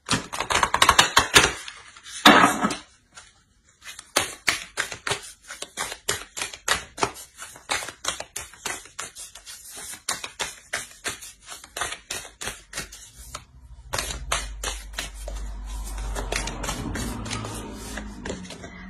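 Oracle cards shuffled and drawn, a long run of rapid, steady close-up card riffling clicks, with a few louder flicks at the start and a softer rubbing stretch near the end.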